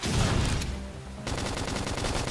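A flame grenade attack in Xenoblade Chronicles X lands as a dense burst of crackling, popping blasts, fading briefly and then returning as a sustained rapid rattle of combat noise.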